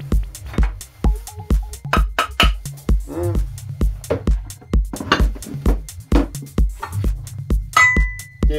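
An old hand-forged steel hammer head being tapped repeatedly, each strike a sharp metallic hit with a brief bright ring, in a quick irregular series close by.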